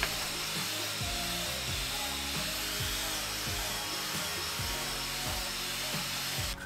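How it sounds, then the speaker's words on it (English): Angle grinder fitted with a large carbide wheel carves a wooden bowl blank into a leaf shape, giving a loud, steady high-pitched whine with rhythmic bursts of cutting as the wheel bites the wood. "I only use the big carbide wheel on the angle grinder"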